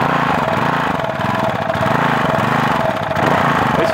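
A Briggs & Stratton 375 Sprint petrol mower engine runs steadily and loudly up close, with a continuous throbbing drone and no talking.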